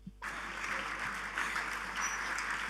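An audience applauds after a bishop's speech at a Nigerian platform event, steady dense clapping that starts abruptly and holds at an even level throughout.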